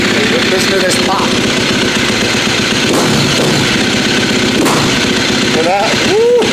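A cold KTM 350 SXF dirt bike engine revving and popping, a loud close-up roar with sharp cracks throughout. Brief voice-like whoops near the end.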